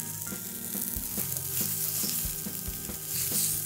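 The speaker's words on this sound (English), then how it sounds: "I'm going to add the spinach." Spinach dropped into a hot pan with tofu, a loud continuous sizzle and hiss of frying with a low rhythmic thumping beneath it, close up and steady throughout.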